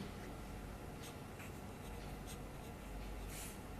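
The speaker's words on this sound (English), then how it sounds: "let me write that down" Writing during a thermal radiation lecture, soft scratchy pen-on-paper strokes in short irregular bursts, faint and close over a steady background hiss.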